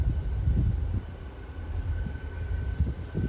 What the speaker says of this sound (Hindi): तो डाउन में भी कोई ट्रेन आ चुकी है, गुड्स ट्रेन हो सकती है